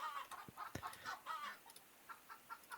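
A chicken in the survival fantasy forest game Huntsman clucks in a run of short, quiet bursts, faint and fairly close, with no talking over it.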